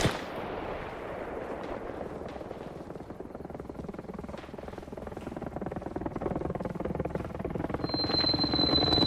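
Distant explosions from a bombing run thud and rumble repeatedly in the Arma Reforger combat video game, over a continuous low battlefield roar, with no talking.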